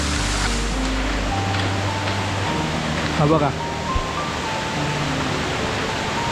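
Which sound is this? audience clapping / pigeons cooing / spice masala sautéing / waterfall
waterfall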